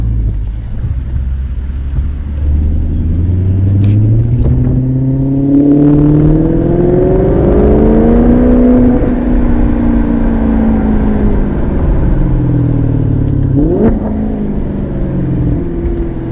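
A Ferrari engine climbing toward 7,500 RPM heard from inside the car, a loud steady rumble with rising and falling harmonic sweeps as it accelerates and shifts, and no talking.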